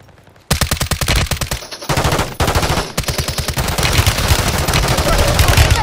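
Gunfire in a shooter video game rattles in long, rapid bursts of loud, closely spaced shots, broken by brief pauses before the firing resumes.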